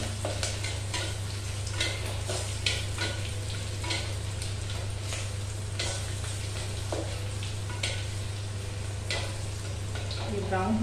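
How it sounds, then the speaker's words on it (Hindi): Spices and besan with a pinch of hing are mixed in a frying pan, giving a continuous soft sizzle with scraping stirs and light clicks, all over a steady low hum. "सारी चीजें को डालकर अच्छे तरीके से मिला लेना है।"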